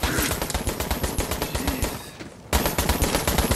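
A turret fires on the player in Borderlands 3, a rapid, loud burst of automatic gunfire that pauses briefly and then resumes just as intensely.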